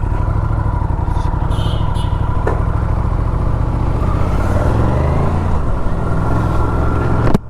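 Aprilia RS 457 motorcycle rides along with a loud, close, steady engine drone and a brief shift in tone near the end, with wind rush over it.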